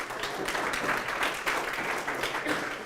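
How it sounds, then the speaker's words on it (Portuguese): A church congregation at a Bible exegesis class applauds steadily throughout, a soft dense clatter of many hands that stays even and moderately distant. "Dê um aplauso ao Senhor que a internet está nos ajudando"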